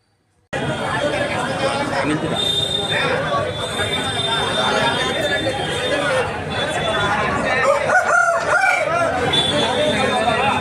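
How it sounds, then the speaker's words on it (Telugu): Fighting roosters crow amid a busy crowd at a Sankranti rooster market, the crowing partly buried under steady loud chatter and nearby voices throughout. "మార్కెట్ నిండా మొత్తం పుంజులు ఉన్నాయి"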